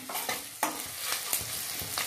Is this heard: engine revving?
no